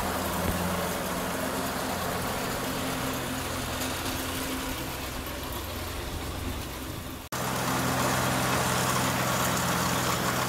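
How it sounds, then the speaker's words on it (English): A hard-worked garden mower engine runs continuously with a rough, droning roar while clearing weeds, close and steady, broken once by a brief dropout before it carries on at full volume. "This mower really does get abused here."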